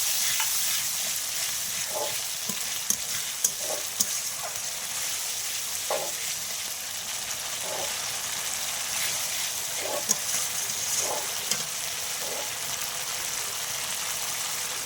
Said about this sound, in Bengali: আমি এবার এই মশলার বাটি ধোয়া একটু জল দিয়ে দিলাম